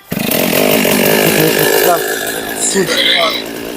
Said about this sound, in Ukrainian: переводимо ручку керування бензопилкою в положення одинички, беремо, затискаємо і запускаємо